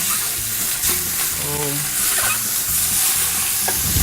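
Lamb shanks searing in a hot pan, a loud, close, constant sizzle with some clattering as the pieces are turned.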